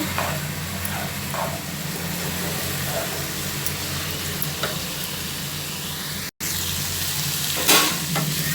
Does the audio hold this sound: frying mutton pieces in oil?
yes